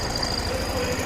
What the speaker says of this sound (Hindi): एक सिफ्टी सी की आवाज़ इसके अंदर आ रही है।